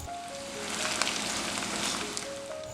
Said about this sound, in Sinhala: ඉඟුරු සුදු ලුණුත් ඒ විදිහට බැදගත්තේ